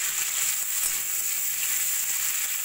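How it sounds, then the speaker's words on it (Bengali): A thinly sliced medium onion fries in hot oil in a pan, giving a steady, even sizzle that carries through without a break and with no talking. "পেঁয়াজটাকে একটু ভাজা ভাজা করে নেব।"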